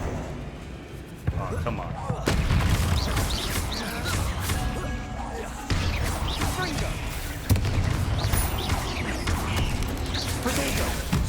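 A Bombarda explosion spell is cast in Hogwarts Legacy, with several loud, crashing booms breaking out over a dense, rumbling game soundscape.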